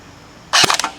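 One sharp, close snap of a KWA M4 RIS airsoft rifle firing a single shot, a short bright crack that dies away within a fraction of a second against quiet.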